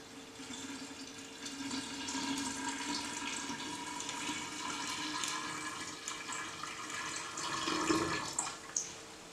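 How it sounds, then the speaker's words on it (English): Water pours steadily into a stainless steel chamber for an ore-opening sodium hydroxide boil, a continuous splashing wash with a brief louder gush near the end, heard up close with no talk. "So now we are pouring the water inside."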